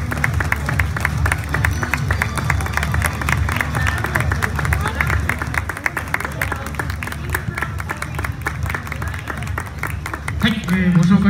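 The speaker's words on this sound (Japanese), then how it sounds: "大きな拍手でお迎えください。" A stadium crowd at a J3 football match halftime show in Morioka applauds to welcome a voice performer, with dense sustained clapping and crowd murmur filling the whole stretch, swelling slightly near the end.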